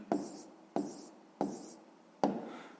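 A fraction written out by hand during a fifth-grade maths exercise: four short, crisp scratching strokes come at a steady rhythm, each one quickly fading, close and fairly quiet with no voices.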